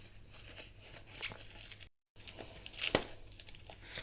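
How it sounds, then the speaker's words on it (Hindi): Tape peeled off laptop speakers during a teardown gives soft, crinkly tearing and crackling bursts, close and fairly quiet, with a brief silent gap midway. "अब हम यहाँ से टेप को निकाल देते हैं"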